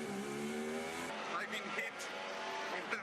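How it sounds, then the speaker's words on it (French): Formula 1 cars braking and racing at the 2023 Bahrain Grand Prix, engine whine shifting in pitch as the cars slow and pass, steady and fairly loud, with no speech. "Et Lance Stroll dont on revoit le freinage au virage 4 qui vient toucher"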